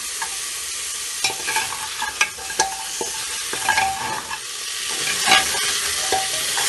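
Frying garlic sizzles and crackles steadily in a pot, with scattered louder pops and occasional stirring scrapes, no voices.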